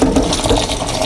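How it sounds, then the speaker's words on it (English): Cold tap water runs steadily and loudly into a bowl of sushi rice being washed, a close, continuous rushing splash with no voices over it. "So we're going to start with some cold water."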